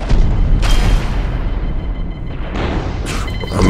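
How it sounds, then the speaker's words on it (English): Missiles launch in the space combat game Infinity Battlescape, a loud deep booming rush with a couple of sharp bursts, heavy and close, with no talk over it. "And missiles away."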